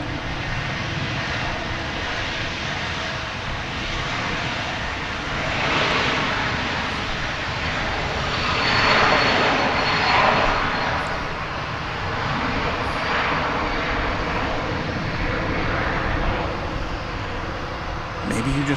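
Airplanes at DFW Airport, a steady loud roar of jet engines from taxiing and lined-up aircraft that swells and eases over nearly twenty seconds, with a voice talking faintly at times.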